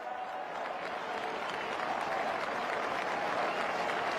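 A large stadium crowd applauds and cheers continuously as the Hawthorn players, 1988 VFL premiers, take their lap of honour, a dense, sustained roar without pause.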